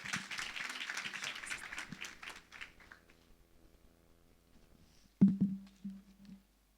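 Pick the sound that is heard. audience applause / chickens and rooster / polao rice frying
audience applause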